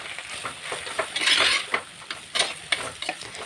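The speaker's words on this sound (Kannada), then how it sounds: "ಇದನ್ನು ಚೆನ್ನಾಗಿ ಫ್ರೈ ಮಾಡ್ಕೊಳ್ಬೇಕು" Brinjal coated in a ground spice paste of cumin, pepper and garlic frying in a pan, a brief close sizzle broken by bursts of scraping and stirring.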